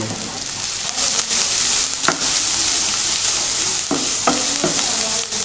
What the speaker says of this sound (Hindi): और इसको फ्राई कर लेंगे।